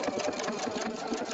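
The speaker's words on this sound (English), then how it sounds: "I'm going to press my start stop button, and the machine will stitch until it is ready for the sequin" Epic2 sewing machine stitching sequin stitches, a steady rapid mechanical whir with a fast repeating needle clatter, close and continuous without talk.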